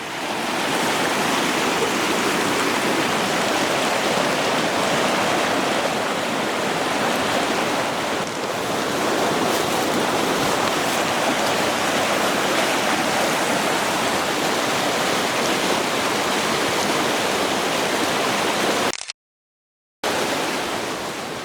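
A river flows past a wooded rural property in Stonewall at the base of the Sangre de Cristo mountains, a loud, continuous rushing roar that holds steady before a brief dropout near the end.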